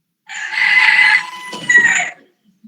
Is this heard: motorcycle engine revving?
no